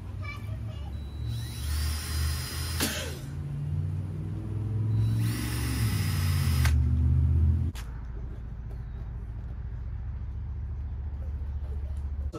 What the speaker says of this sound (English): I'm gonna put the two screws up there so we can mount the sign.